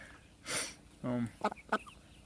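Chickens cluck in a few short bursts, close by, with a louder squawk early on and quieter background noise between calls.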